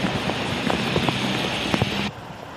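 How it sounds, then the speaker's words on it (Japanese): Heavy rain pours steadily at night in front of Hakata Station in Fukuoka, a dense hiss of large drops with scattered splashes and taps, ending in a sudden drop in level. "先ほどから大粒の雨が降ってきていて、道路を見てみますと車が水しぶきを上げながら走っています。"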